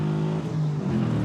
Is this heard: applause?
no